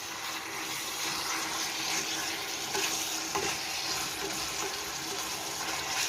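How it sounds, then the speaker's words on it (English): Steady, loud sizzling of chicken frying in hot oil, a continuous crackling hiss with occasional stirring clinks. "So basically I'm just frying the chicken a little bit until the oil separates."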